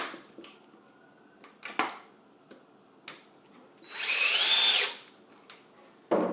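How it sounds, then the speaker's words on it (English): A power drill bores into a jimmy-proof door lock, one sustained high whine of about a second standing out amid scattered clicks and knocks of handling the hardware. "It's better not to use a drill for this, but I'm doing this just for demonstration purposes."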